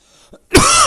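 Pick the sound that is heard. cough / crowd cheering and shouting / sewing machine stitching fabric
cough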